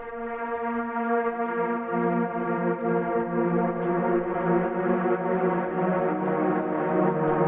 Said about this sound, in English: we have this pad sound. So this is a loop that I have used